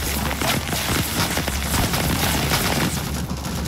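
Gunfire in the Vietnam-era shooter game Rising Storm 2: Vietnam, with dense rapid bursts of shots cracking in quick succession, loud and continuous, with a heavy low rumble underneath.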